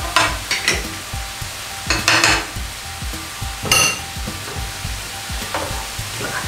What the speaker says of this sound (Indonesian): kita aduk hingga semuanya merata